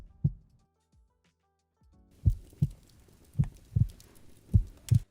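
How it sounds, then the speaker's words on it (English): Heartbeat sound effect in a horror-themed audio drama: low, thumping double beats repeating in a steady rhythm, starting with a lone pulse, then after a short silence recurring five more times, fairly loud and close with a faint background wash. "And then yeah, the heartbeat."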